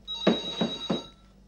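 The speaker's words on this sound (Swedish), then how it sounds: "Och det ringer jag måste på." A telephone rings at a veterinarian's practice: three evenly spaced bursts of electronic ringing, fairly close and clear, with a steady high tone beneath and no talk.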